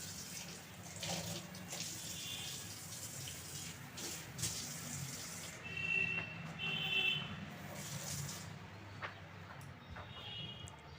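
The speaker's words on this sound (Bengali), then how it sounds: "তারপরে ভাবলাম এদিকের এই বেসিনটাও মেজে নিই" Water runs steadily from a tap into a sink basin while it is washed and scrubbed, with a continuous rushing flow and brief clatters and rubbing sounds throughout.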